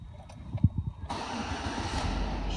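A Chevy GMC engine cranks and catches, then settles into a steady broadband running roar for the last second and a half, close and fairly loud.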